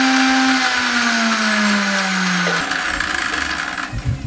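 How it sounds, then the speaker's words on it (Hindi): A covered blender whirs loudly, grinding a sattu drink with water, mint leaves, sugar and black salt; the motor pitch drops gradually under load, then the whine cuts and the jar clatters briefly as it spins down. "इसको ऊपर से कवर लगा देंगे, अच्छे तरीके से हम इसको ग्राइंड कर लेंगे।"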